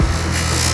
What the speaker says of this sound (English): we use this buffing wheel, we're going to polish, which is the final stage of this